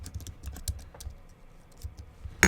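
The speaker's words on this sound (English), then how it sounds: "So I'm going to type a name like my YouTube." Typing on a computer keyboard, a quick run of light, close key clicks with short pauses, ending in a sharper, louder keystroke.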